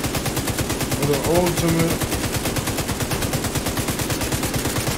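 Rapid automatic gunfire from Tom Clancy's The Division 2 rattles steadily through the whole stretch in a fast, even rhythm, with a brief spoken line over it partway through.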